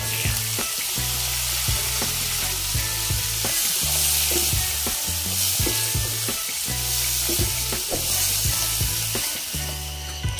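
Bitter gourd (ampalaya) frying in a pan with sautéed onion and garlic, a steady close sizzle broken by repeated scraping and stirring clatters throughout, with no talking.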